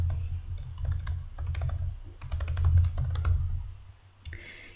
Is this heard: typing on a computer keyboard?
yes